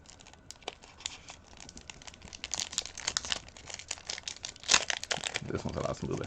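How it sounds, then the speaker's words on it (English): Knife cutting open a case of Heroclix figure packaging, with close crinkling and tearing plastic in uneven bursts and one sharp snap, while a person talks. "Using that knife. Cut stuff open."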